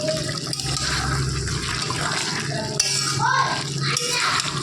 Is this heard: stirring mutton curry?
yes